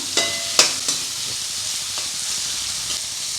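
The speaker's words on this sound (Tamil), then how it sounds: "இந்த காய் நல்லா வதங்கட்டும் இப்போ கேரட் பீன்ஸ் வந்து கொஞ்சம் வதங்கியிருக்கு" Carrots and beans sautéing in a pan for veg egg noodles, a steady close sizzle with a few sharp clicks of stirring near the start, no talk.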